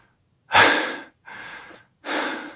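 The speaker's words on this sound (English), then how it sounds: "Just breathing weirdly." An AI-generated Veo 3 figure breathes oddly in three distinct, close, breathy rasps: a heavy, loud first breath, then a softer one, then another strong exhale, with silence between and no talking.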